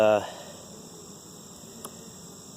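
A steady, droning buzz of bees fills the space close by, continuous and even after a short opening sound.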